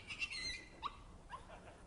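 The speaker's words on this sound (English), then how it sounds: "I wonder if this dog realizes just how far its yelps will go" A dog yelps a few times outdoors, short high cries spaced across the moment, faint and distant against a quiet background.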